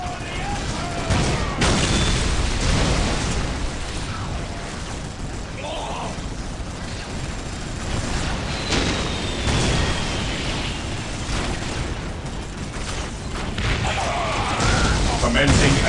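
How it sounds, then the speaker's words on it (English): Grenade blasts and battle noise from a Dawn of War real-time strategy skirmish, with dense, continuous booms, crashes and gunfire rolling together loudly throughout, broken by sharper bursts and occasional shouted voices. "Let the grenades fly!"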